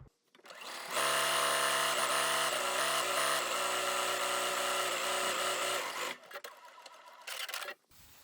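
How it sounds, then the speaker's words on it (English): A sewing machine stitches down a fabric hem, running steadily for about five seconds, a close, loud mechanical whir, then slows and stops with some shuffling afterward. "So we're going to take this over to the sewing machine and stitch it down."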